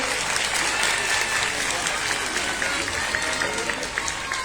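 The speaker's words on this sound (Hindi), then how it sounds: "देखो कितनी तालियां बजाते हैं जय शिवधारा के नाम से" Dense crowd applause at an ashram ground-breaking ceremony, steady and full throughout with faint voices blended in.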